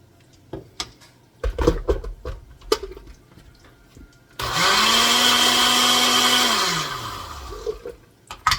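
A countertop blender whirs loudly for about three seconds, blending a potato soup mixture with flour and sour cream, its motor pitch dropping as it winds down, after a stretch of quiet kitchen clatter.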